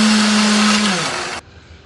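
A blender whirs loudly grinding shallots, candlenut, ginger, pepper and nutmeg with a little water, holding a steady motor tone that dips slightly before cutting off abruptly, leaving a faint hum.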